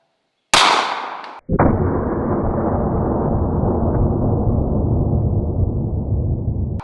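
A .500 revolver shot, from a 500 Special or 500 Magnum, cracks loudly close by and is followed by a long heavy rumbling roar that lasts several seconds, with no speech.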